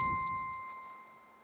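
An electronic keyboard's octave bells preset strikes a single bright tone that rings on, then fades steadily over about a second and a half with no talk over it.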